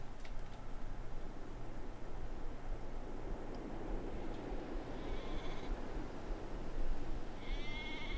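Two short sheep bleats from the video game Eladio: Beyond Meteorito, one in the middle and one at the end, sound over a steady low background hiss.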